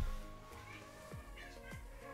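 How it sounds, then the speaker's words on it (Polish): A house cat meows a few times during an online game stream, the short rising-falling cries standing out near the mic over a steady background hum and faint music. "To jest kot, pytaliście się"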